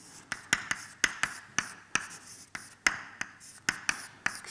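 Chalk or marker strokes and sharp taps on a lecture board as equations are written during a physics lecture on cell transport: a quick, irregular series of crisp clicks and short scrapes, close and fairly quiet, with no talking.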